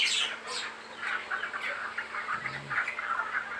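Broiler chickens on a poultry farm in hot weather cluck and chirp in scattered bursts, fairly close but modest in level, with a low background hum and no talking.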